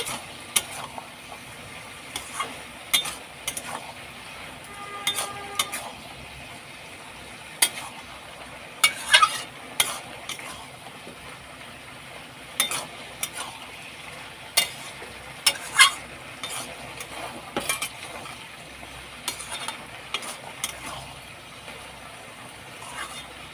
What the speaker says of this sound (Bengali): এইভাবে নাড়াচাড়া করে মশলা মিশিয়ে নেব